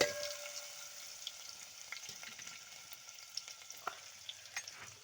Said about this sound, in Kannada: ಚಟಾಪಟಾನ ಉಳ್ಳಾಗಡ್ಡಿ ಹಾಕೋಬೇಕು ನೋಡ್ರಿ